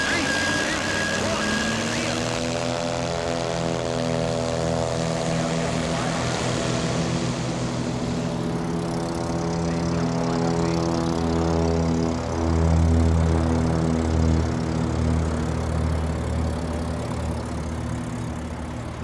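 A propeller plane, likely a lightly modified early straight-tail Cessna 182 on big tires, drones steadily through a STOL air race, its engine harmonics rising and falling near and loud, with a swell partway through and a voice talking over it.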